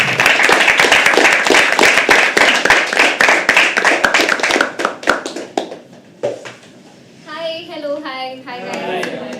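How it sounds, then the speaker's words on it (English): Clapping from a small audience at a live poetry open mic, a burst of close, distinct handclaps that thins out after about five seconds, followed by a person speaking. "Let's start clapping. Everyone."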